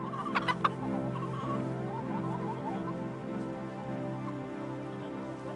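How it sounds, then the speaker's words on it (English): Chickens and turkeys clucking in a steady, busy farm chorus, with a few sharper calls standing out near the start. "There are lots of birds on farms too, such as turkeys, ducks and chickens."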